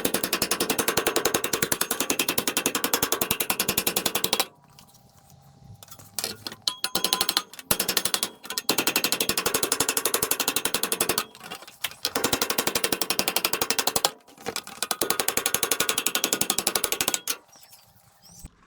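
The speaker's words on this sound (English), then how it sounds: "he loves doing these little indentations with a ball peen hammer" Rapid, continuous metallic hammering with a ball peen hammer making indentations rattles loudly in long bursts, broken by brief pauses and scattered single knocks.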